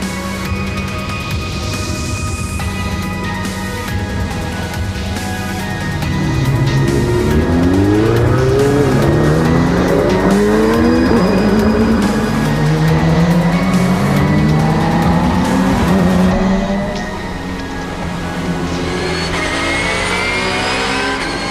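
Race cars at Magny-Cours circuit for a ROSCAR race, engines revving and droning loudly as they pull onto the starting grid, pitch rising and falling through gear changes with a sustained roar and no talk.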